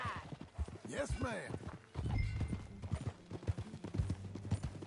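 Horse hooves clip-clop at a walk in the Red Dead Redemption II video game, close and fairly loud with a steady rhythmic clatter, while game characters talk over them.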